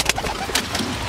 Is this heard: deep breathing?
no